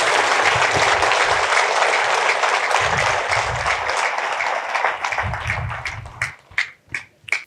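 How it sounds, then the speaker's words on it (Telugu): An audience at a Telugu motivational talk claps loudly in a sustained burst of applause that thins out toward the end into a few scattered, separate claps. "ఒకసారి గట్టిగా చప్పట్లు కొట్టండి"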